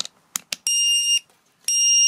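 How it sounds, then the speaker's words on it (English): Utrai 2500A car jump starter sounding its short circuit alarm: a few quick clicks followed by two sustained, piercing electronic beeps with a short gap between them, close and loud in a quiet room. "It's beeping and it shows some symbols, R and SC, short circuit probably."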